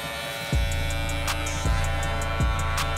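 Electric hair clippers fitted with a number four guard, lever fully open, run with a steady close buzz and hum, and three heavier thuds drop in as they are set against the head and moved.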